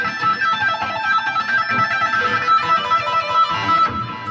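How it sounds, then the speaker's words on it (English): Electric guitar through the built-in phaser effect of a Boss Katana 100 amp, bright chords ringing steadily and loudly with a swirling, shifting tone and no voices. "Then you put on the flanger or the phaser."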